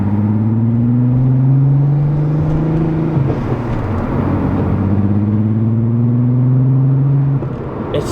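A 1987 MK2 Volkswagen Jetta engine revs steadily up and holds, drops briefly, then climbs again, its exhaust droning loud and close before cutting off near the end.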